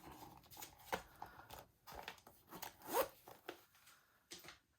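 Cash being tucked into a zippered wallet, with close, quiet zipper rasps and crinkly handling noises in uneven bursts, one sharper zip near the middle, no talk.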